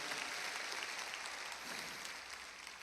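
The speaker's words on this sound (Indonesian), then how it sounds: "Kita beri tepuk tangan yang sungguh-sungguh untuk kebenaran ini." Sustained applause from a church congregation during a sermon, a dense, even wash of clapping at moderate distance that holds steady for about three seconds before easing slightly.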